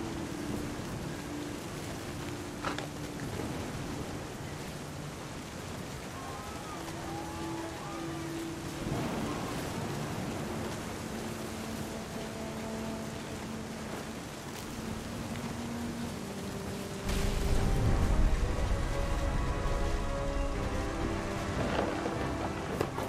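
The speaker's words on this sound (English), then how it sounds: "The thunder sounded much too close and full of angry power." Steady rain falls in the video game What Remains of Edith Finch, with faint tones drifting over it. A heavier, rumbling swell of thunder and downpour rises sharply near the end. No one speaks.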